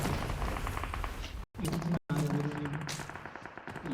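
Rapid gunfire from a sniper in a mobile shooting game, loud bursts of shots filling the short span with two brief dropouts, a voice faintly underneath.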